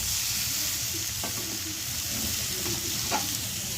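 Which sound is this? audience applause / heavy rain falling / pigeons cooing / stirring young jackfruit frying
stirring young jackfruit frying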